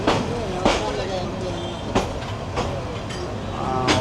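A train rolls slowly into Kishoreganj station in Bangladesh, its wheels knocking over rail joints in loud, irregular clacks against a constant rumble.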